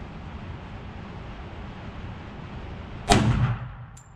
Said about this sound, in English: First shots through the Clark Custom 45 ACP.